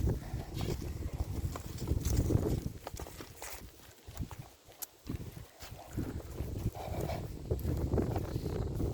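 A chestnut stallion's hooves clip-clop at a walk, fairly close and moderately loud in an uneven rhythm, with a brief quieter stretch midway.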